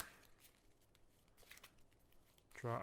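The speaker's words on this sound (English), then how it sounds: "shuffle up," A deck of cards is shuffled during a solo game of the Legendary deck-building board game, Guardians of the Galaxy set: faint riffling flutters build to a louder, close burst of card rattling at the end.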